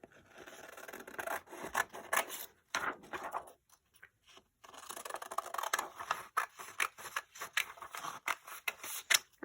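Scissors snip and rasp around punched-out paper pieces for a spring junk journal cover, a run of close, quiet crisp cuts with short pauses between them and no one talking.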